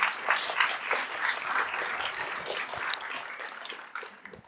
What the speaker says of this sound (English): let's give a round of applause to Mr. Muhammad Muhsein